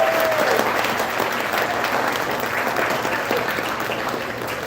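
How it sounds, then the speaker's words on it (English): A banquet crowd at a school sports awards dinner applauds the cooks, with sustained, even clapping from many hands over a light hum of the room. "If you thought the food was good, you can give them a round of applause."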